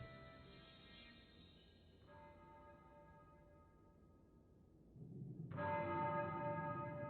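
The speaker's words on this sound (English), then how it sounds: "Freaking bell again." Church bell tolling in the video game Tales of Arise, ringing out in long resonant strokes that fade before another louder peal sounds over a rising background rumble.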